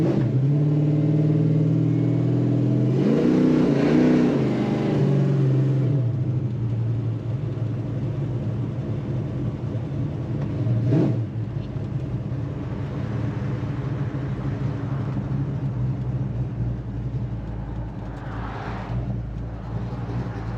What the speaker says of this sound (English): We're just gonna take her for a test drive, a little drive